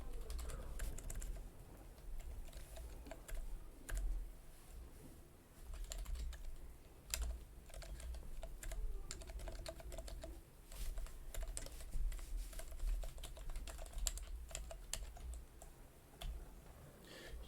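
Quiet, steady clatter of a computer keyboard as someone types code, with irregular bursts of keystrokes running throughout and no talking.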